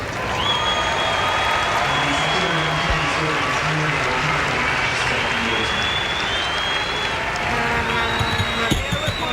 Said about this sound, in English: Applause for Gary Kirsten's highest score in Test match cricket.